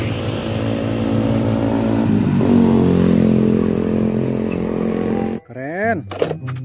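A toy box truck's engine effect plays as a loud, steady rumbling drone for about five seconds, ending abruptly, followed by a brief high-pitched warbling tone.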